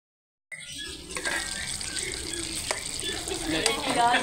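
Chicken frying in a karahi, a loud sizzle that starts abruptly and holds steady with stirring scrapes and occasional louder crackles, close up.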